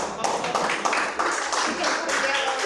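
An audience claps at a poetry performance, a dense burst of many hands filling the space for a few seconds, close and fairly loud, with voices mixed in underneath.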